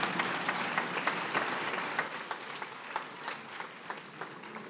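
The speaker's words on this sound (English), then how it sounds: "Another round of applause, please, for His Excellency" Audience applause at the Lake Chad Basin Governors' Forum in Maiduguri, hosted by Yobe State: a full hall clapping loudly and continuously, with individual sharp claps standing out as the ovation gradually thins and softens.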